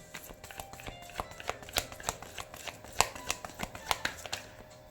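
Tarot cards being shuffled and drawn from a deck, soft riffling and steady light snaps of cards at close range, repeated at an even rhythm throughout.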